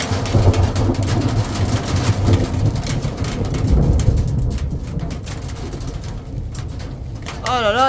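Heavy rain pours and thunder rumbles through a violent Alpine storm near Grenoble, a loud, continuous roar with deep low booms, and a brief rising and falling electronic warble near the end.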